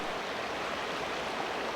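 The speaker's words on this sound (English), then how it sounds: "I could see the creek sparkling down below" Creek water rushing in a steady broadband wash, close and even, with no voices over it.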